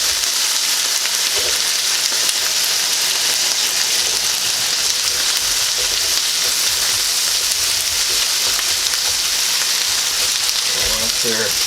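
Potatoes frying in an electric frying pan with melted fat, a dense, steady, loud hiss and crackle sizzling close by without pause, with faint occasional clatter and no speech.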